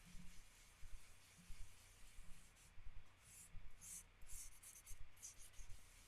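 A tissue rubs paint into a pumpkin's surface with soft, faint, repeated scrubbing strokes in a steady back-and-forth rhythm, close and quiet with no talking.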